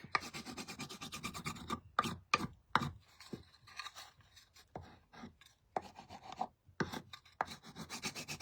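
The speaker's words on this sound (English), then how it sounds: "So I'm just applying some wax here on our surface just so we can get this chippy look." Wax is rubbed by hand onto a painted wooden Peep Bunnies cutout, giving soft close scraping strokes in short bursts separated by pauses, with no talking.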